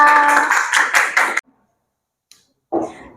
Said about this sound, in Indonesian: Tepuk tangan ya buat kelompoknya